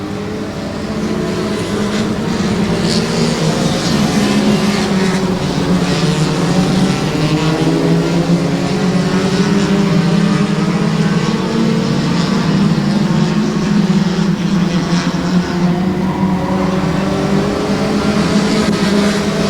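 Race cars roaring into turn 4 during a Saturday night race, engines droning loud and continuous with a strong steady tone that swells slightly as the pack passes, no voices over it.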